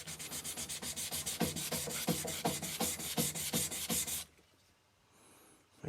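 A knife bevel with a kurouchi finish and cladding is rubbed in a steady rhythm of about a dozen gritty back-and-forth strokes on a Cheefarcuut vitrified diamond whetstone, close up, then stopping into near silence.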